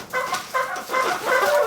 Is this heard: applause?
no